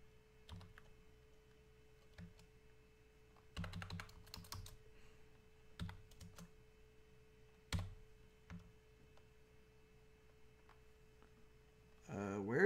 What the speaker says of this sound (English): Where's that symbol on my keyboard again?